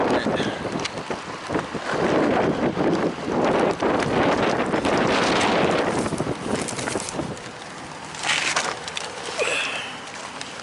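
Strong, gusty wind buffets the microphone outdoors at a farm equipment auction in Belle Plaine, Minnesota, a loud, continuous roar that swells and eases, with brief faint sounds in the background.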